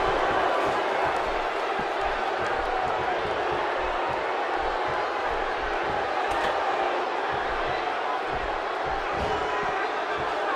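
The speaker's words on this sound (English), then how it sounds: "by the sound of this crowd, I think they're getting what they wanted" Large wrestling arena crowd during a televised tag team match, a dense, steady roar of cheering and shouting that fills the whole stretch, with a commentator's voice faintly mixed in.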